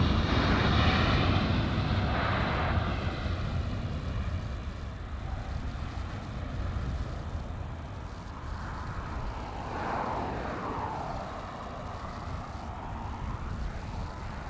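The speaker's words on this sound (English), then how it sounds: "let's stay with the A330 that we've been waiting for. Heading to JFK." An Airbus A330 jet airliner departs LAX bound for JFK, its engines a loud sustained roar that slowly shifts in pitch as it climbs away, no voices.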